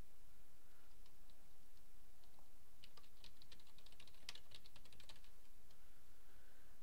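A computer keyboard is being typed on during a software installation, giving quiet, close, irregular clicks and taps over a steady background hiss, with no talk.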